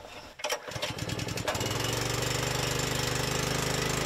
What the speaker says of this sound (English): And we have engine start.